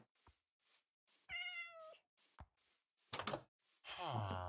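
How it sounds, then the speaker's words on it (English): A Minecraft cat stuck inside a village building gives a few short, quiet meows between soft thuds, with a longer, louder meow at the end. "Cat stuck inside."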